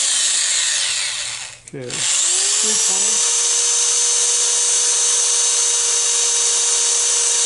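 A power sander runs against a wooden snowman turned on a lathe, whining steadily and fairly loudly. It briefly stops and restarts near the start, and someone says a word during the pause.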